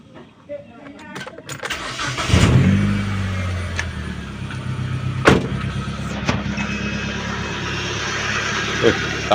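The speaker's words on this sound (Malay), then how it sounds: "lepas tu kita start engine" A Proton Wira car engine cranks and fires up, settling into a steady low idle hum with a few sharp clicks and knocks; talking is heard over it.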